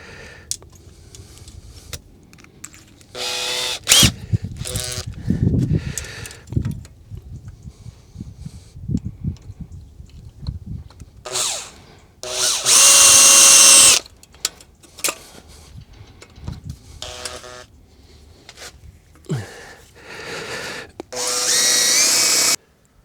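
A power drill whirs in several short, loud bursts, separated by clatter and handling noises, with no one speaking.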